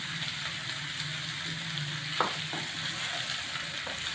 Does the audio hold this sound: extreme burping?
no